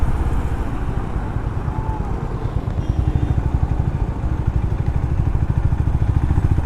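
A Honda CB350RS motorcycle engine idles steadily close by, a dense low rumble with a fast regular pulse and a light mechanical clatter on top, holding at an even, fairly loud level throughout with no talking.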